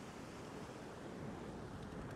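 Strong wind sweeps across Phuoc Hai beach, a steady broadband roar blending with surf, loud and continuous throughout with no voices.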